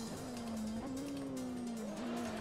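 Engine note of a car in the Assetto Corsa racing game on a narrow mountain pass, a steady loud drone that dips and shifts as the car brakes hard, with faint tire hiss, no talk.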